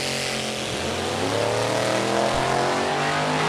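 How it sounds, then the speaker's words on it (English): Vintage drag cars, including a 409 Superstock and a 1930 Ford Model A, roar off the line down the strip, a loud sustained engine blast rising in pitch as they accelerate away, with no talk. "Tim Risen on the right-hand side, the special agent in the 1930 Ford A in the right-hand side."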